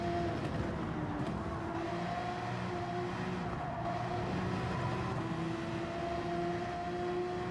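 A Ferrari race car engine in Gran Turismo 7 at Spa-Francorchamps during a 12-hour endurance race holds a steady, faint high-pitched drone, with other car noise blended into a constant background.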